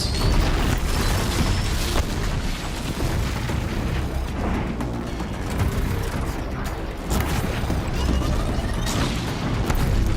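A rock launcher explosion in the video game Horizon Zero Dawn, a loud, dense, continuous booming roar with heavy low rumble that barely lets up throughout.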